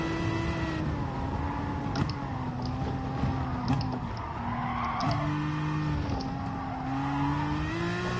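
Race car lapping a track in Gran Turismo Sport, engine droning steadily with shifting pitch as it revs up and down through gears, plus faint tire squeal, continuous and loud throughout with no talk.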